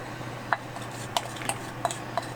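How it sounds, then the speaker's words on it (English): Spoon stirring currant juice and sugar in a pot, with a faint steady background hum and a handful of light clinks and taps against the pot at uneven intervals. "we're just kind of stirring this for a minute, letting this come back up to a heated point, and adding the sugar"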